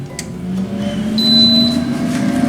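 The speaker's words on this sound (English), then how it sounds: "So now take the basket and put it in the air fryer." An air fryer switched on with a short electronic beep, then running with a steady low fan hum and whir, fairly close, with no talking.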